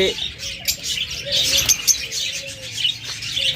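Caged lovebirds and cockatiels at a bird sale give a busy mix of bright chirps and short tweets, some near and loud, over a muffled background murmur.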